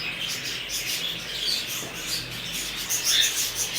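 Breeder pet birds, ring-necked parakeets and cockatiels, chirp and whistle continuously at an aviary exhibition, with bright overlapping calls at moderate distance.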